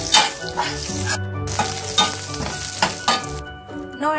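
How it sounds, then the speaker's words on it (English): Chopped ginger and garlic roasting in a pan for a mushroom and green pea curry, a loud, close, continuous sizzle with rhythmic stirring scrapes and no talk. "Roast ginger and garlic."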